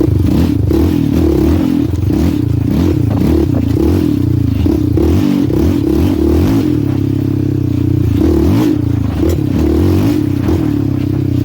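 A Yamaha Raptor 700R ATV engine pulls hard in third gear over whoops, a loud, continuous close-up roar that surges and dips in pitch as the throttle works, with clattering from the rough ground.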